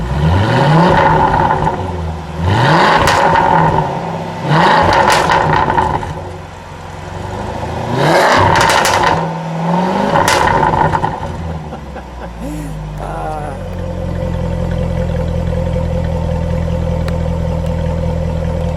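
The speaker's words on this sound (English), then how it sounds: "Okay, so this is the sport exhaust." A 2017 Jaguar F-Type SVR coupe's 8-cylinder engine revs hard several times through its sport exhaust in loud bursts with rasping exhaust, then settles into a steady, rumbling idle.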